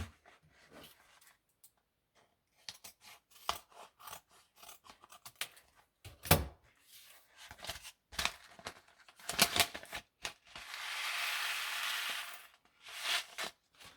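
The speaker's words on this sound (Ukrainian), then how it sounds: "Зараз ми розріжемо дану упаковку та подивимося на насіння." Scissors cutting open a professional cucumber seed packet, with a run of short crisp snips and paper crinkles, then a longer continuous slicing cut near the end, close and clear with no talk.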